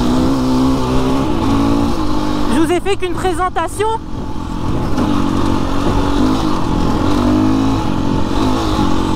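A BHR 300 R enduro motorcycle engine drones loudly and steadily while riding, with pitch rising and falling as it revs, and someone talks over it throughout.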